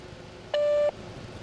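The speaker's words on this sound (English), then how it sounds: "At the beep, leave us a message." A single steady electronic beep from a voicemail greeting, sounding once for about a third of a second, clear and fairly loud against a quiet background with no talking.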